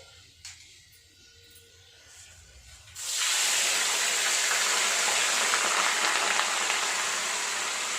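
Water gushes steadily into a pot of rinsed rice, a loud continuous pour beginning partway through after a quieter stretch and running to the end.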